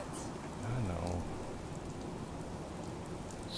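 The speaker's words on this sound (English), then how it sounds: "Oh, look, and the rain came back" Steady rain falls across a Fallout 4 game world, a constant soft hiss with a brief low rumble near the start, holding at a moderate level throughout without speech.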